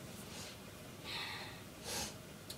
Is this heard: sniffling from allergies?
yes